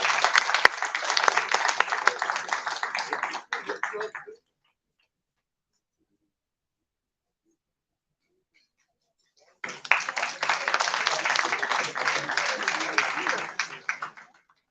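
An audience at the FICCI 39th Annual Session breaks into dense applause for about four seconds. Silence follows, then a second equally strong burst of clapping from the hall.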